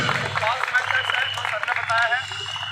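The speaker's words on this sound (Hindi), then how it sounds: "सर के लिए एक बार तालियां हो जाए जोर से" An audience at a fire safety briefing with a live demo claps steadily for a couple of seconds, the applause blended with voices and crowd murmur.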